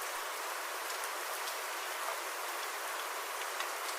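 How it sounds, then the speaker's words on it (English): Soft, steady rain drizzling outside, a continuous even hiss of light drops with no talk, calm and unbroken throughout. "It wasn't a heavy downpour, just a soft, steady drizzle that made everything feel serene."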